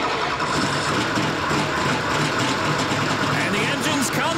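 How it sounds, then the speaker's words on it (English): Race car engines of the NASCAR Pinty's Series start up on the Toronto street circuit for the Grand Prix of Toronto, a dense, sustained rumble of many engines idling and revving together under an announcer's voice. "And the engines come to life on the streets of Toronto"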